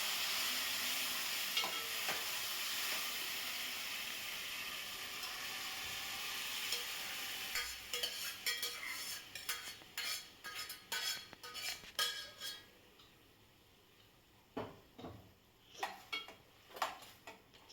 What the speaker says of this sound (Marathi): आता हे शिजलेलं अळू आपण फोडणीला घालून घेऊया